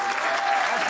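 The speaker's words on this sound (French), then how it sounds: "Je voudrais qu'on applaudisse très fort Karina Marimon qui est avec nous et Laurent Ruquier." Studio audience applauding steadily at a French TV talk show, a dense continuous clatter of many hands heard close and full without any voices.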